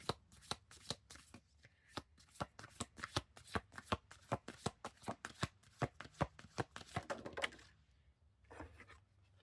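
Oracle cards being shuffled by hand in a quick run of crisp, papery riffles and slaps, close and fairly loud, pausing briefly near the end before a final burst; no talking.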